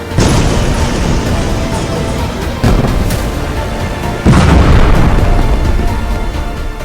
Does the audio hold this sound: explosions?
yes